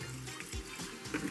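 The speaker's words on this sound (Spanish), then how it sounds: "Vamos a agregarle un toquecín de agua." A splash of water pours briefly into a pan of chicken in oyster sauce, a short soft liquid trickle close by in a home kitchen.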